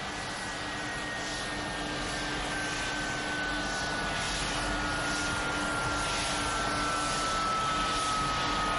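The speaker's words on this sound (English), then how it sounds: "Air Force One has come to a stop outside the airport at Austin Straubel International Airport." Air Force One, a presidential jet, idling on the ground at Austin Straubel International Airport: a steady, loud engine roar with a sustained whine and a slowly falling tone, no voices.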